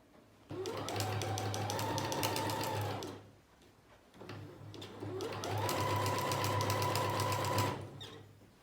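A sewing machine stitches the lining of a teddy coat in two long runs, each steady, loud and close, with a short quiet pause between them.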